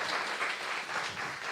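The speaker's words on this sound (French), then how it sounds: "On peut les applaudir très fort" Applause from a conference audience after a real estate data panel, a soft, fairly distant wash of many hands clapping evenly throughout.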